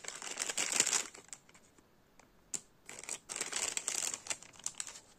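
A plastic bag crinkles in bursts of close, dry rustling with short pauses between them as a 1:64 scale Hot Wheels Mystery Models diecast car is unboxed.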